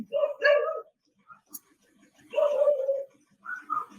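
Dogs bark in short bursts at night on Balete Drive, moderately close, with quiet gaps between barks.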